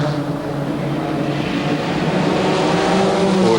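A Porsche 968 race car drives in a 1995 one-hour Group E/GT production race, its engine a loud, steady, sustained drone throughout, with no pauses.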